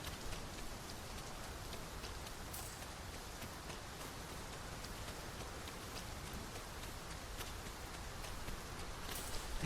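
Steady rain falls throughout the Dragon's Dogma 2 game world on a volcanic island, a dense, even hiss of drops on surfaces with occasional brighter patters and no voices.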